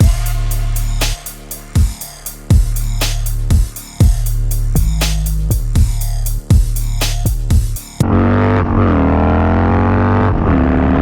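A Harley-Davidson Dyna FXDX Super Glide motorcycle accelerates hard, its loud close engine note rising through several gear shifts with brief dips between them, then settling into a steady high roar.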